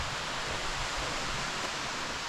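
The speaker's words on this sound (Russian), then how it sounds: "Вон там вот водопад." Steady broadband rush of a waterfall beside a hiking trail near Tambach-Dietharz, Germany, a constant even roar heard from a short distance with no talk over it.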